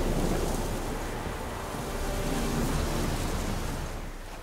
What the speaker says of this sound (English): okay, it's storming